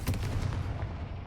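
A Confringo fire spell is cast in the video game Hogwarts Legacy, a loud deep booming blast that bursts out at once and then rumbles down over a moment.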